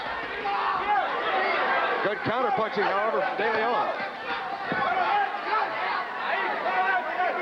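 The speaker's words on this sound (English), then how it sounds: "Boy, it's a lively crowd here" Lively boxing crowd chatter at a Leon Spinks versus Carlos DeLeon bout, a continuous hubbub of voices filling the arena under a commentator's steady talk.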